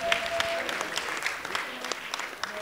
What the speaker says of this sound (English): I'm gonna clap for me now.